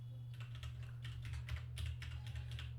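Keys clatter on a computer keyboard while data is entered into an MS Access table, a quick, close run of clicks over a low steady hum.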